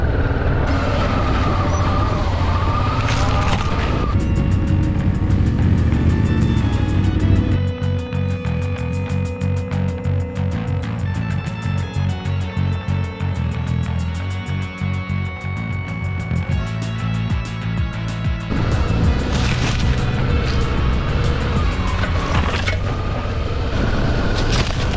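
A motorcycle on a sandy trail in Spain holds a loud, steady engine drone, its pitch shifting as the rider changes pace around a third of the way in and again near the end.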